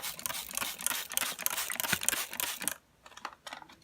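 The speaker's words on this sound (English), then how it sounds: "I'm just gonna spray some water" Repeated quick bursts of hissing water spray from a spray bottle misting a leopard gecko hatchling enclosure, several pumps in a row for a few seconds, then a pause with a couple of softer spritzes.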